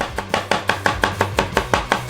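A stalk of celery chopped with a knife on a cutting board, about a dozen crisp, evenly spaced cuts in a quick steady rhythm, close and clear, with no voices.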